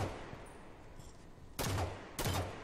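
Two sharp bursts of gunfire from the Halo 5 Forge video game, fired through a cage barrier, with quiet ambient game noise before and between them.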